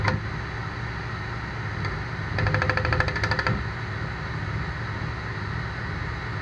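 A scroll saw cuts wood on tight, nearly 360-degree curves, a steady motor whir with a brief burst of rapid rattling chatter as the blade catches, no speech.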